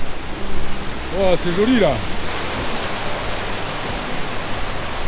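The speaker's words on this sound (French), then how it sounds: "Il y a encore une autre rivière." A river rushes with a broad, steady wash of water noise throughout, and a nearby voice speaks briefly over it early on.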